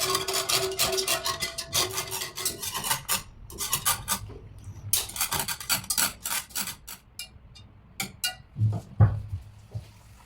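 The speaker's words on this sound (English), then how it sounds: "she's going to start to heat it on low heat, constantly stirring" A spoon scrapes and rubs steadily around a pan while stirring a coconut milk mixture over low heat, soft repeated scraping strokes, fairly close and quiet, no talking.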